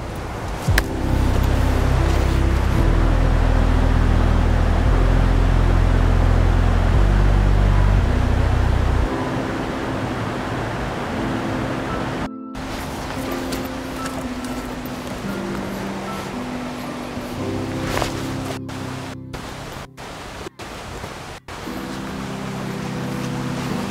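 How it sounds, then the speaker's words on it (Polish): A forest stream flows with a steady, rushing wash of water that fills the whole clip, with some low wind or handling rumble in the first few seconds and no talking. "po drugiej stronie jeszcze jest strumień, który też muszę przejść"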